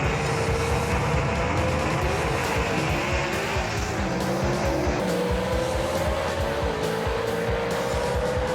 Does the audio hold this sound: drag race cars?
yes